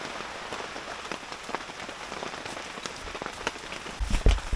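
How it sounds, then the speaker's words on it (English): Heavy rain pelts a tarp wall tent, a dense continuous hiss dotted with sharper drop hits, and a few louder thumps and rustles close by near the end. "It's really raining now."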